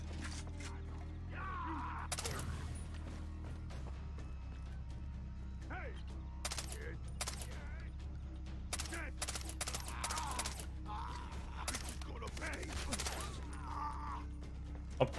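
Gunfire rings out in the Far Cry 3 video game as irregular, sharp shots crack out in scattered bursts over a steady low background hum.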